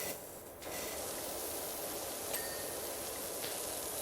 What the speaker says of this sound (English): Loving the power washing. Spraying it up and the dirt goes down.